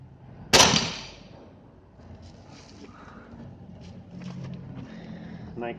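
A PCP Monel air rifle fires one sharp, loud crack near the start, with a quick decaying tail, followed by quieter handling sounds and someone speaking.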